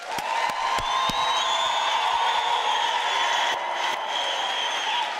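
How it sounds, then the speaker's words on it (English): Dense, steady applause from a large graduation ceremony audience, continuous and loud throughout with a few sharp claps and faint whoops rising above the crowd. "But I need a louder round of applause."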